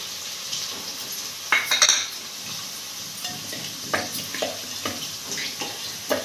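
Coarsely crushed peanuts being mixed into sabudana khichdi with potatoes in a pan: soft scraping and stirring under a low sizzle, with a handful of sharp spoon clinks against the pan scattered throughout, no talking.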